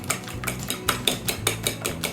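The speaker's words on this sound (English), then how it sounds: "So I'm just going to whisk them up. Fork until they're going through the fork really easily." Eggs whisked with a fork in a bowl for a chocolate dessert, a steady run of quick, bright clinking taps against the bowl, close and fairly loud, with no talking.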